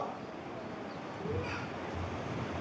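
A preacher in a church sermon imitates a blowing east wind with a steady, rushing breathy hiss into the microphone that swells slightly midway.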